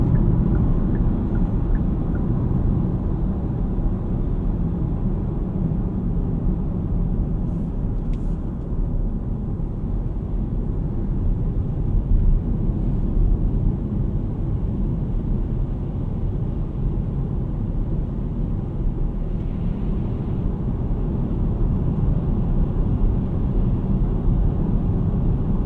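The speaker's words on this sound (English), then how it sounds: "There are some wind noise, but it's manageable." Steady broadband wind rush inside a Kia EV3 Long Range electric car at driving speed, a constant loud whoosh with low road rumble underneath and no voices.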